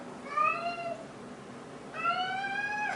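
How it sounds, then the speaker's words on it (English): A big house cat meows twice nearby, a drawn-out plaintive call followed about a second later by a longer one in a quiet indoor room. "That's my cat. I have this big old cat."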